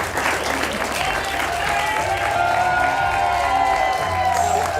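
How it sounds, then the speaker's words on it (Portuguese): A studio audience gives sustained, full applause to guests on a television talk show, with some cheering and a faint musical tone mixed into the steady clapping. "uma salva de palmas para o Bruno, para a professora Teresa Paiva"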